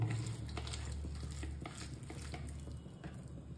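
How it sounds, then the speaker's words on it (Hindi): Rohu fish pieces frying crisp in oil, a soft close sizzle with light crackles over a low rumbling hum. "उन मछली को फ्राई करके निकाल लेते हैं"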